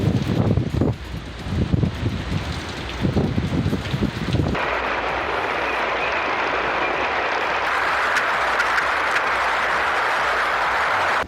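Cyclone-force storm wind roars steadily, with a rough, gusting rush that turns into a dense, continuous howl partway through, loud and close.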